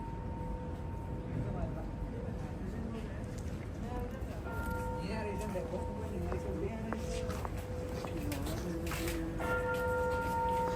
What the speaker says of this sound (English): ooh, there's a bell sound.